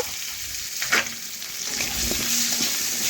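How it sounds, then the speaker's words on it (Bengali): Potatoes with turmeric powder sizzle in a wok as a spoon stirs them, giving short scrapes and clinks over a continuous frying hiss, close and alone. "হলুদ গুঁড়ো দেওয়ার পরে নাড়াচাড়া করে একটু আলুর সাথে মিশিয়ে নেব।"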